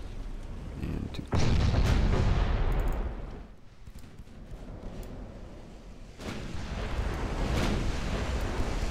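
Heavy 12-inch naval guns boom in a battleship video game, one loud deep blast followed by rumbling echoes and a second, weaker report later, with faint talking underneath.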